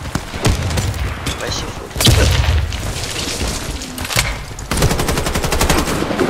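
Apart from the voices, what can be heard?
grenade explosion in the video game Warface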